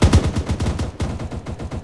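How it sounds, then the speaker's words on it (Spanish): Machine gun fire in Arma 3 during a Fallujah bunker operation, rapid loud bursts of rattling shots in a dense rhythmic stream, close and unbroken by voices. "¿De dónde vienen los disparos?"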